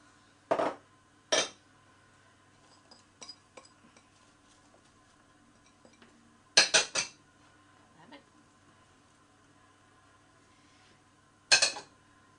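A spoon mixes chopped vegetables in a roasting dish for oven-roasted vegetables with basil and garlic, giving a few sharp clinks and knocks against the dish spread irregularly over a quiet background.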